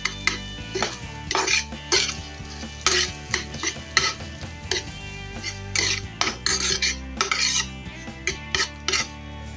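A spoon stirs black beans, andouille sausage and peppers in a cooking pot, with repeated metallic clanks and scrapes against the pot in an irregular rhythm, close and fairly loud, with no talking.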